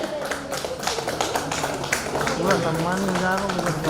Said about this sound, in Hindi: एक बार जोरदार तालियां बजा के